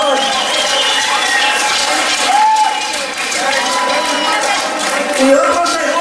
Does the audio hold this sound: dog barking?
no